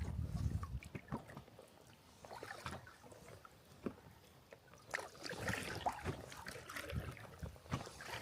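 Water pitter-patters underneath a kayak in a soft, irregular run of small taps and trickles against the hull. The sound is close but faint and continues throughout.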